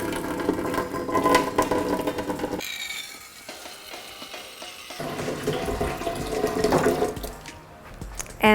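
Hot water, brought to about 85 degrees Celsius, is poured out of a container while brewing a large batch of black tea for bubble tea. It makes a steady, fairly loud rushing splash that dips partway through and then swells again.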